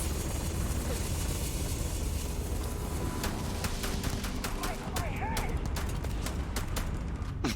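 Rapid gunfire rattles against a pirate in Starfield, sharp repeated shots cracking over a constant loud background of game noise and effects.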